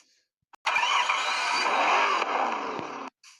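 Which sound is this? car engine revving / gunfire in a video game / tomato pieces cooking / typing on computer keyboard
car engine revving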